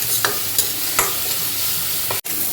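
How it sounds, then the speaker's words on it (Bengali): Ginger paste, turmeric and red chili stir-fry for mutton bhuna, a steady hot sizzle broken by a few scraping strokes of the spatula, close and loud with no talking. "আদা বাটা হলুদ লাল লঙ্কা এটাকে ভালো করে কষাবো"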